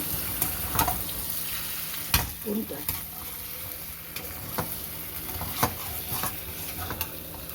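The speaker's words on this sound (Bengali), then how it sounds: "চিনি দেওয়া হলে মশলাটাকে আবারও কিছুক্ষণ কষিয়ে নেব।" Sugar-sweetened spice paste is stir-fried in a pan, a close, continuous sizzle punctuated by repeated sharp scrapes and taps of a spatula at an irregular rhythm.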